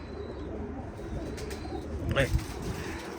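Pigeons coo softly over a low, steady background murmur, with a slightly louder burst of activity near the end.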